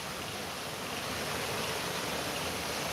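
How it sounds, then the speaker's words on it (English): A waterfall roars with steady, dense broadband rushing of running water, loud, close and unbroken throughout, with no voices. "Hope the waterfall's not too loud."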